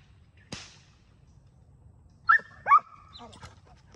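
During protection training, a dog lets out a couple of short, sharp barks close by, preceded by a brief noise, with faint background sound between.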